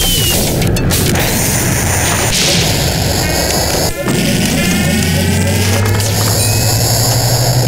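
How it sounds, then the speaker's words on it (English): An ion cannon fires in a laser battle video game as a loud electronic whine and buzz, with rising tonal sweeps and a deep rumbling hum building toward the end, all under busy game noise without talk. "Shoot the ion cannon."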